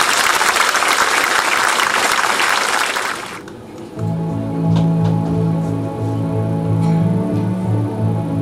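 A theatre audience at a live stage show claps loudly and densely for about three seconds, then the applause drops away into quieter sound with tonal music playing.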